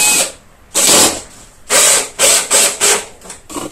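A power screwdriver drives screws into a Briggs and Stratton lawnmower during restoration: about six loud whirring bursts, the first long, the rest shorter and quickly repeated, separated by brief quiet gaps.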